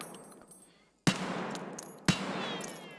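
Two separate single shots from an AK-104 in Escape from Tarkov, each a sharp loud crack about a second apart with a lingering reverberant tail, in an otherwise quiet scene.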